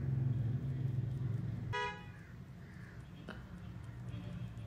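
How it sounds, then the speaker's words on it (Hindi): A car horn sounds briefly from outside, a short toot over low background hum in an indoor room. "गाड़ी को हॉर्न आ गया ना।"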